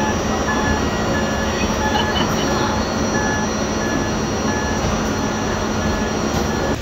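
The Simhapuri Express, train 12709, arrives at Secunderabad station with a continuous loud rumble of rolling wheels and carriages, faint squeals and clicks over the steady roar, heard from inside a second class AC coach.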